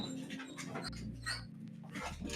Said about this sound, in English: You guys hear these dogs?